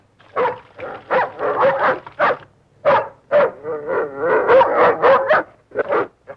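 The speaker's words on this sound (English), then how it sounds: "Why is he barking?" A dog barks repeatedly in quick, uneven bursts, loud and close, with short pauses between volleys.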